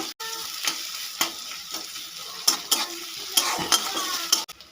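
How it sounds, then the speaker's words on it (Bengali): Chopped onion fries in hot oil in a pan for ghugni, a steady close sizzle broken by scraping stirs and light spatula knocks at irregular intervals, with no talk. "পেঁয়াজ কুচিটা দিয়ে দিলাম পেঁয়াজ কুচিটা একটু হালকা করে ভেজে নেব"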